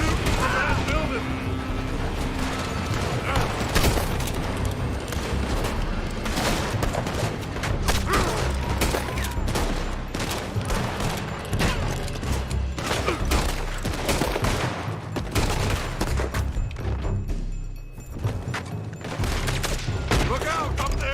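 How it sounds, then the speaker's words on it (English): Sustained gunfire in Red Dead Redemption 2 coming from a building, rapid overlapping rifle and pistol shots crackling throughout with booming low impacts, loud and dense, under occasional voices. "They're shooting from that building."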